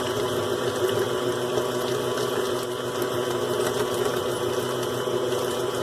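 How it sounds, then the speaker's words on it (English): Pineapple upside-down cake batter being mixed for a cast iron skillet cake, a continuous close whirring churn of steady loudness with no pauses. "Now we're going to give it a mix here"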